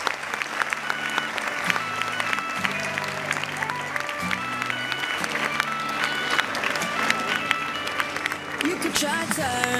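An audience claps to welcome children onto the stage for a welcome-song performance, a loud steady patter of many hands mixed with crowd noise while music plays underneath.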